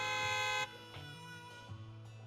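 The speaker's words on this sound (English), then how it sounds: "a loud honk echoes as several trucks with the Leaps and Bounds logo drive into the open area" A loud truck horn blares in Zenless Zone Zero as trucks drive into an open area, a sustained chordal honk cutting off sharply after half a second, followed by quieter game sounds.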